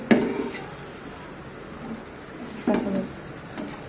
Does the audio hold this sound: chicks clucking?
no